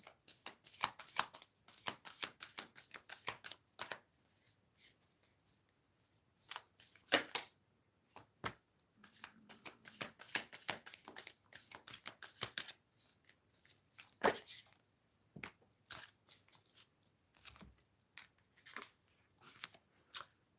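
Tarot cards are shuffled by hand close by in quick riffling bursts with brief gaps, crisp and light, with no voices.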